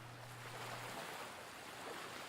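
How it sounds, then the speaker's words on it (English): Waves wash against a shore in a visual novel game as a soft, continuous surf hiss, faint and distant, with a brief low hum at the start and no voices. "Suddenly, I heard the sound of waves crashing against the shore."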